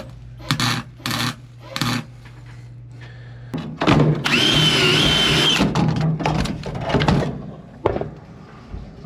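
A power drill bores through a part on a 1949 Chevy pickup, its sustained whine running a few seconds close up and loud, framed by clanks and handling knocks before and after.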